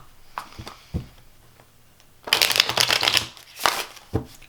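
Tarot cards being shuffled during a Capricorn horoscope reading, a long riffling burst in the middle and a shorter one near the end, with a few soft taps and handling sounds before, close and fairly quiet, no talking.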